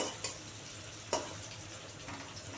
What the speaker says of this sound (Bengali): এই দেখো কি সুন্দর লাল হয়ে ভাজা হয়েছে আরও লাল হয়ে ভাজা হবে